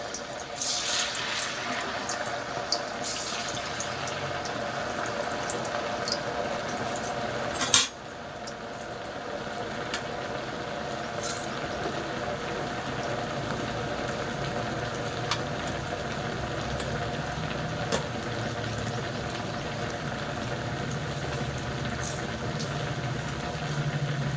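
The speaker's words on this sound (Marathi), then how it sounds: "दुसरी बॅच पण आपण सेम अशाच पद्धतीने तळून घेऊया" Sabudana vada, deep-fried sago fritters, bubble in hot oil with a steady broadband hiss throughout, broken by a few clinks of a utensil and one sharp knock near the middle, with no talking.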